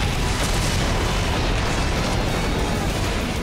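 A Beetle Cannon blast from Power Rangers Samurai: a loud, sustained roaring noise fills the whole clip, a continuous booming explosion with no voices over it.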